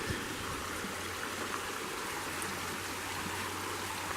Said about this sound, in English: This straight ahead here is Wolf Creek.